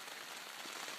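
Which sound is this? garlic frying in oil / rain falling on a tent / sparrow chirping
rain falling on a tent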